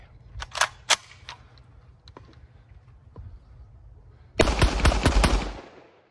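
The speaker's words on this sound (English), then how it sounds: "Looks like all 5 shots were either in the A zone or right outside the A zone" Sharp rifle reports from an IWI Tavor fired at a target: a few spaced shots, then a quick, louder cluster of cracks near the end, close and with no talking.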